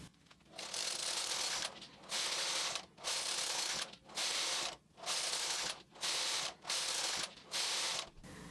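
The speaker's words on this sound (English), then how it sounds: "So we'll just knit back and forth until the length you like." Brother 260 knitting machine with ribber attached, its carriage knitting back and forth in steady passes, each a loud whooshing, clattering sweep of about a second with short gaps between, close up.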